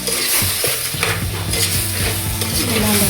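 A spoon stirs crab curry (nandu kulambu) in a pan, loud and close, with a dense sizzle and rhythmic metal scrapes and clinks against the pan.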